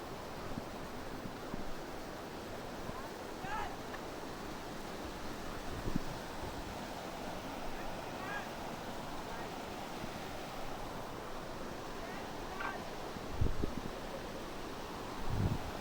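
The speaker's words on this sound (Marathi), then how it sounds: "एक छोटासा धबधबा आहे तो घसरगुंडी." Small waterfall at Mahuli during heavy rain, a steady broadband rush of falling water and rain blending with wind buffeting the microphone, continuous and fairly even, with a few faint thumps and distant voices.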